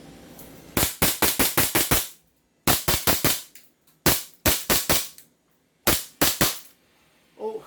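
An upgraded 2011 STI airsoft pistol fires in four quick bursts of sharp, loud snapping shots, each burst a rapid string of close cracks separated by short pauses, with no talking.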